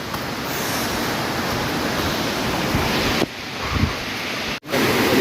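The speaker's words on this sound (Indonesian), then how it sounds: "sekarang kita akan melewati aliran sungai yang kelima" A river stream on a jungle trail toward Curug Cisadane near Bogor, heard as a continuous loud broadband rush of water over rocks, close and steady, with a brief dip partway through and no voices.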